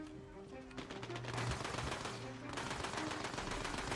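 Rapid gunfire in the looter-shooter video game Tiny Tina's Wonderlands, loud and continuous bursts of automatic shots layered over a steady game soundtrack, with a brief lull before firing resumes.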